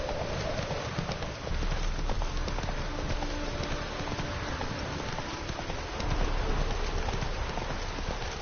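Roach, the horse in The Witcher 3, gallops with steady rhythmic hoofbeats under a constant wash of rain or ambient noise, moderately loud and continuous.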